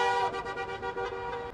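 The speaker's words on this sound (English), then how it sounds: "listening to cars honking" Car horns honking on a city street, a loud sustained blare with several overlapping tones pulsing slightly, close and dominant.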